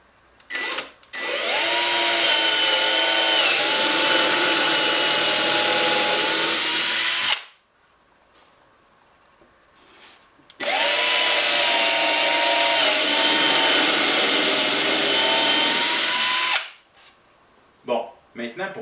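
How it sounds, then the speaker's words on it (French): A power drill bores holes from the inside of a wooden drawer, two long loud whirring runs of about six seconds each separated by a quiet pause, with brief handling clicks around them. "on perce par l'intérieur, parce que c'est là que le fraisage doit être fait"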